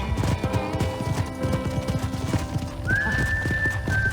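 Hooves clop in a quick, rhythmic gallop in the video game Red Dead Redemption, then a horse lets out a loud neigh near the end, with music faintly underneath.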